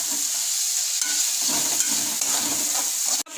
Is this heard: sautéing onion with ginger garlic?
yes